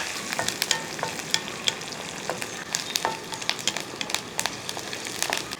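Onions, dried red chillies and curry leaves stir-frying in hot oil for a tempering, giving a crackling sizzle with frequent sharp pops and spatters and busy stirring.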